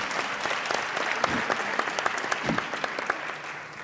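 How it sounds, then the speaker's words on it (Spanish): Moderate audience applause at a debate panel, a steady patter of clapping hands that stays fairly soft and even for a few seconds. "Un aplauso"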